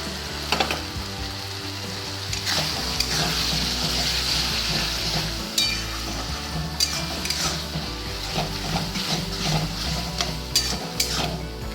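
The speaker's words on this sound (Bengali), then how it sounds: "পেঁয়াজ, আদা, রসুন একটু ভাজা হয়ে গেলে তার মধ্যে আমি এই যে টমেটো সসটা 4 চামচ বড় চামচের, এটাও আমি দিয়ে দিলাম" Onion, ginger and garlic frying in a pan with tomato sauce added, a loud, steady sizzle close by with spoon stirring scrapes and occasional clinks against the pan.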